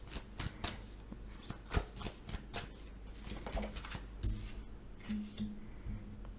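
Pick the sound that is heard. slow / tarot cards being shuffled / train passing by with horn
tarot cards being shuffled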